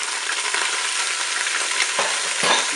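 Chicken thighs and onions fry with a steady broadband sizzle in a Cookeo electric multicooker on its browning setting, close and continuous, with a couple of brief stirring scrapes near the end.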